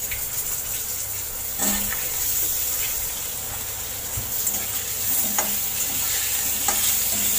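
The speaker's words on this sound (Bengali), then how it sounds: "আলুটা ভেজে নেব।" Potatoes fry in a pan of hot oil tempered with dried red chilli and black cumin over a high gas flame, giving a steady close sizzle with intermittent scraping stir strokes.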